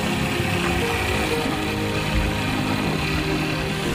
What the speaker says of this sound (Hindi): गाड़ी चल रही है हमारी।